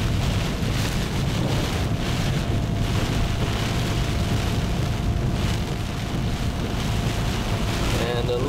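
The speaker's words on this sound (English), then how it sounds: "As we drive up into the precipitation." Steady, dense broadband rush of Tropical Storm Fay's heavy rain and road noise heard from inside a moving vehicle in Melbourne, Florida, constant and loud throughout with no voices.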